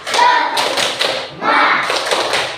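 Children doing a rhythmic clapping cheer: bursts of close, loud hand claps and thumps in a patterned beat with short pauses, mixed with young voices chanting along.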